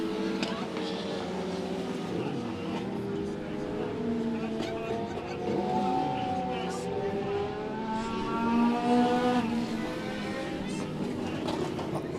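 Race cars at Monett Motor Speedway during weekly racing as car 76 spins, engines revving and droning at a distance under a race announcer's talk, with rising and falling pitch as cars pass.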